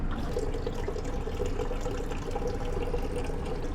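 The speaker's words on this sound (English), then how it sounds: "I fill my bucket with water" Water runs steadily into a bucket being filled for hand-washing laundry, a continuous close pouring and gurgling rush with no voices.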